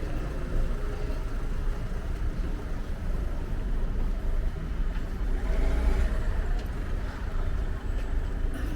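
City traffic near the Paris Périphérique on a Saturday, a continuous broadband roar of passing cars and engines at moderate distance, steady with slight swells, no speech.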